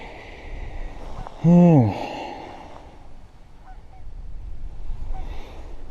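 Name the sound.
geese honking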